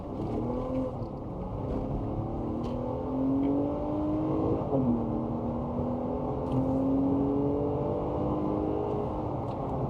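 2023 Nissan Pathfinder Rock Creek with a 9-speed automatic accelerating onto a highway, engine droning steadily from inside the cabin, pitch rising through gears with a shift dip midway, under road and wind noise.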